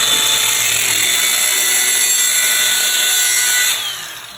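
A power tool cuts through a steel crossmember for a drift car, producing a loud, sustained high-pitched grinding whine close by that holds steady before tapering off at the end, with no talk.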